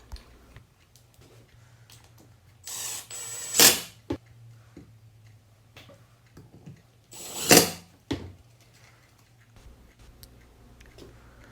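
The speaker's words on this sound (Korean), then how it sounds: "건조가 다 되었으면 지붕과 본체를 나사로 조립을 합니다." Screws driven to fasten a wooden birdhouse roof onto its body, heard as two short bursts of grinding drill whir a few seconds apart over a low steady hum, fairly close.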